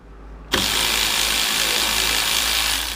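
An AC Delco 3/8-inch cordless ratchet kicks on after a brief quiet moment and runs with a loud, steady motorized whirr up close, with no talking.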